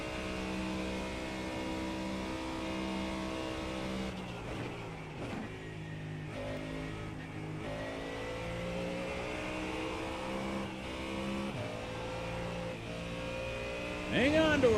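Race car engine driving through the Parabolica corner in a factory setting, a steady loud droning roar with shifting pitch throughout, briefly dipping mid-way and rising sharply at the end, with voices talking over it.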